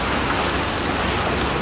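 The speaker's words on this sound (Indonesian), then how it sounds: "hujan ngaririncik" Light drizzling rain falls steadily outdoors at a stadium, a dense, even patter and hiss on surfaces with no pauses, fairly loud and close, with no voices over it.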